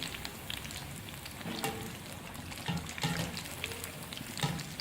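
Cheesy potato nuggets sizzle in oil, being turned over, with a continuous crackling hiss and a few sharper pops and stirring knocks, close up and without voices.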